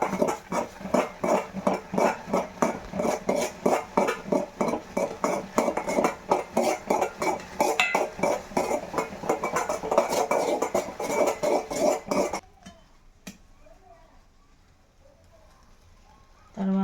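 Rhythmic scraping and knocking of a utensil stirring jowar flour dough in a cooking pot in a village kitchen, steady repeated strokes for about twelve seconds, then near quiet.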